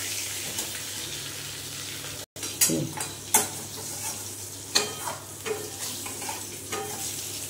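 Pumpkin pieces fry and get stirred in a pan for a Bengali katla fish curry, giving a steady close sizzle broken by a brief gap and then scraping, clattering stirs, with no talk.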